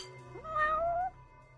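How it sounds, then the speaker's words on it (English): A black cat in the PS4 game Judgement gives a single clear, drawn-out meow that rises in pitch, close and distinct over a low background hum. "that's unlucky. Black cat."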